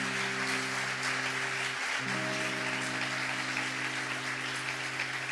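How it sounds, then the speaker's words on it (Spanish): Concert audience applauds steadily at a live show, a dense wash of clapping lasting several seconds beneath sustained tones from the stage. "quiero que le deis un aplauso grandísimo"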